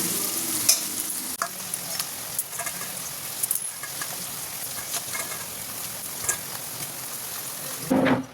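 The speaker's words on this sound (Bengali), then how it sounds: "এদিকে বসিয়েছি উচ্ছে ভাজা" Oil sizzles and crackles steadily as bitter gourd fries, with occasional scraping and clatter from stirring, close and continuous.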